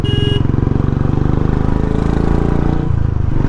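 A Royal Enfield Bullet 350 engine thumps in a steady, rapid beat while riding, loud and close, with wind rush across the mic.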